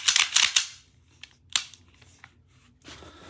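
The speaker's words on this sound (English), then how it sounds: "Let's complete that picture with a magazine" Handling of a G&G SMC9 airsoft pistol carbine with a magazine being inserted: a cluster of sharp plastic-and-metal clacks, then a single crisp click, faint rattles, and a final shuffle, close and without talk.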